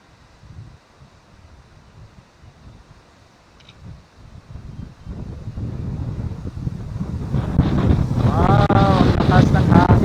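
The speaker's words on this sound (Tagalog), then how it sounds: "malakas yung ihip ng hangin, oh" Wind buffeting the microphone near a waterfall, starting as faint gusts and building into a loud, roaring rush, with a voice shouting near the end.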